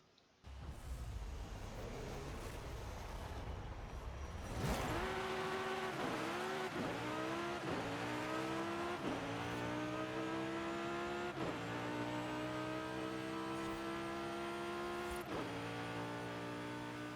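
A maxed-out modern supercar launches off the line in a video game drag race, the engine roaring up from a standstill and rising in pitch through a series of rapid gear shifts, loud and continuous, with no talking.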